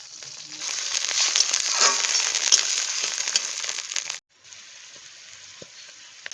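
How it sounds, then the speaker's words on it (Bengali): A splash of water hits capsicum and onion frying in oil, setting off a loud, steady sizzle for about four seconds that cuts off abruptly and then settles into a quieter, continuous hiss. "এখন এখানে সামান্য একটু জল দিয়ে দিচ্ছি"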